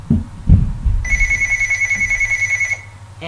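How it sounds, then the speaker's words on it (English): A telephone rings during a basketball video game session, a steady electronic ring of about two seconds, preceded by short low thumps and game sounds. "Sorry for that phone just rang."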